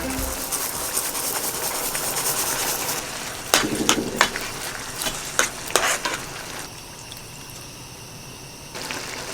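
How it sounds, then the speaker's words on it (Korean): Rice tipped into a camp-stove pan of simmering tomato sauce for Korean-style paella, giving a steady sizzle and bubbling with a few sharp scraping and stirring clatters in the middle, close by and without speech. "토마토 소스. 밥을 넣어줍니다."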